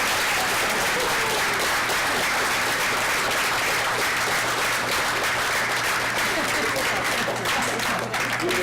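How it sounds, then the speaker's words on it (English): Steady, dense applause from guests at a 50th wedding anniversary vow renewal, loud and continuous throughout with a low hum underneath. "Let's give the Lord and this wonderful couple a round of applause."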